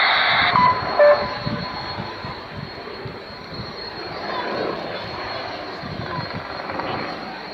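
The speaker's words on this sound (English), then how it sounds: "Apache Gunship flight formation." Apache gunship helicopters fly in formation in a combat simulation game, a steady low rotor and engine rumble with a short sharp burst near the start.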